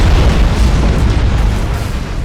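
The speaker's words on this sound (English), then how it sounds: "the escort has rammed our flagship and she has detonated in a gigantic explosion" A flagship detonates in a gigantic explosion in the space strategy game Battlefleet Gothic Armada 2, a loud, deep booming blast with a rumbling roar that sustains and slowly fades over two seconds.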